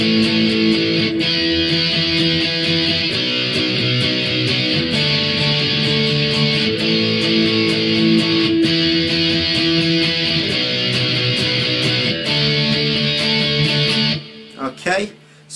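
Electric guitar strums the chorus chords of a song, a steady, loud run of rhythmic chords with a backing track, broken up by a short scrape and quieter bursts at the very end.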